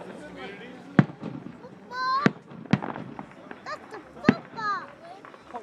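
A fireworks show booms and crackles with several sharp loud bangs spaced a second or so apart, while people nearby talk and exclaim throughout.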